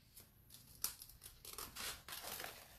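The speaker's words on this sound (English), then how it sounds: "That's all you have to do is go in with just your basic scissors, cut your little pieces out," Basic scissors snip and rustle through paper transfer pieces up close, a quick series of crisp cuts and crinkles with no talking.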